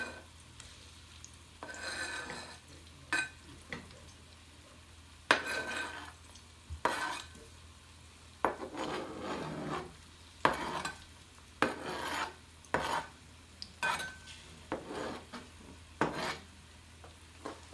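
Frying in oil in a pan for Ghanaian fufu, a low steady sizzle broken by repeated scraping and stirring strokes at irregular intervals, close and without speech.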